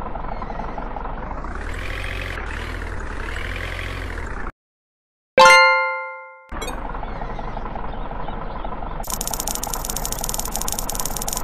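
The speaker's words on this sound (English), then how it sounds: "Drive tractor to shop marker to sell seeds." A tractor engine from the Farm Tractor Simulator 3D video game idles and revs in a steady mid-pitched drone, cut off briefly by a sharp chime before the engine resumes.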